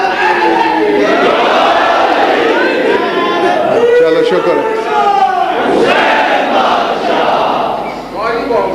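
At a religious majlis gathering, a large crowd shouts slogans in a loud, sustained roar of many voices that rises and falls over several seconds, with a nearby voice speaking briefly.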